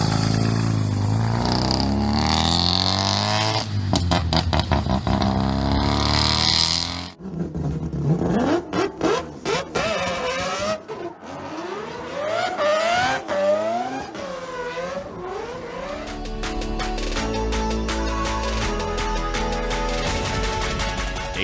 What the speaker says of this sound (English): The RX-2.